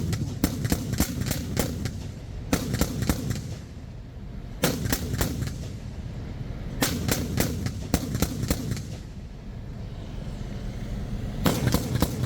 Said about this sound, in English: they will perform a rapid fire to showcase their firepower and destroy all remnant enemy forces